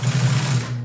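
A sewing machine stitches fabric for a boat cushion, a loud steady mechanical whir running close up and alone for under a second before easing off.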